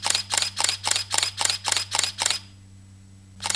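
A Canon EOS 550D (Rebel T2i) DSLR fires a rapid burst of nine crisp shutter clicks in continuous drive at about 3.7 frames per second, then falls silent before one more click starts.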